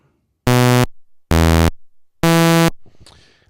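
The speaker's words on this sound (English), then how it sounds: "we click here, the buzzer waveform, and we choose 8 for the repeating sawtooth wave" Three loud, evenly spaced bursts of a harsh, bright electronic buzz come from the maxYMiser buzzer waveform using a repeating sawtooth wave, separated by brief silences.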